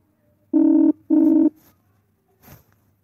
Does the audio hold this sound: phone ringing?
yes